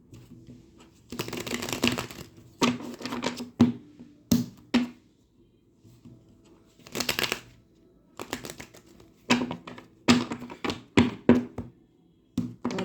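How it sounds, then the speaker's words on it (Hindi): Tarot cards are shuffled by hand close up, in irregular bursts of riffling and soft slaps separated by short pauses. "So let me shuffle the cards first."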